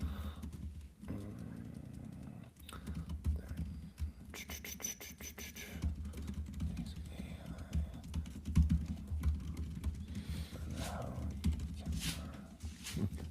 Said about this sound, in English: is typing at a furious pace